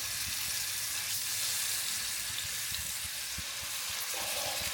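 Honey glazed salmon frying in butter in a pan, a steady close crackling sizzle with scattered pops and spits that continues unbroken throughout.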